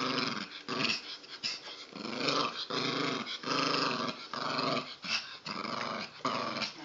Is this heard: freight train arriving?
no